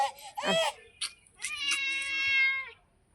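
A cat meows several times close by, a few short calls followed by a longer, drawn-out wailing meow.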